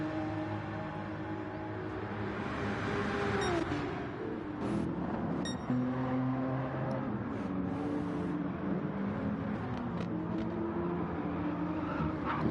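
GT1 race car engines at a Brazil circuit in a sim racing game, a steady high engine drone with shifting revs and gear changes, cars passing nearby, continuous and fairly loud.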